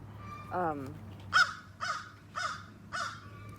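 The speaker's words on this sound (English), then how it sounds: "The crows." Crows caw four times in a steady series, loud and fairly close, after a brief call at the start, over a low constant hum.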